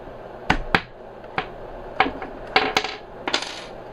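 Pin being pushed out of an airsoft G36 during take-down: a series of sharp, close metallic clicks and taps, about eight spaced unevenly over a few seconds, with no talking.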